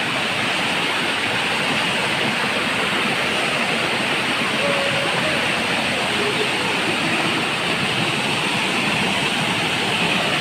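Water pouring down a waterfall in Goa, a constant loud rushing wash that fills the whole stretch, with people faintly talking underneath.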